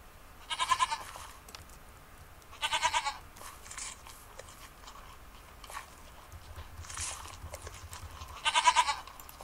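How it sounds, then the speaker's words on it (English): Goat bleats in the Minecraft video game, several separate loud calls spaced a couple of seconds apart over faint background noise, with no talking. "I can deal with a non-female goat."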